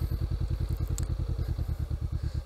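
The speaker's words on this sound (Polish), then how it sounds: "włączamy zapłon, mamy bieg neutralny, starter, wciskamy sprzęgło, wbijamy jedynkę" A motorcycle engine idles in a steady, fast low thumping rhythm close by, with a faint light clack partway through as it is put into first gear.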